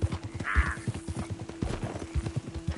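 Rapid clip-clop of horse hooves close by in the video game Red Dead Redemption 2, an irregular galloping rhythm with a short whinny-like squeal early on and a steady hum beneath.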